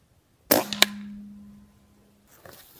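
One crisp crack from a Rossi Outlander air rifle firing a slug, then a short snap of impact and a steady ringing tone that trails away, ending with faint rustling.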